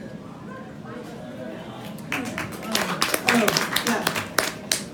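After a spoken word, a burst of scattered hand claps from a small audience at a poetry reading rises briefly and trails off between poems.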